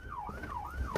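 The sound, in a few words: emergency vehicle sirens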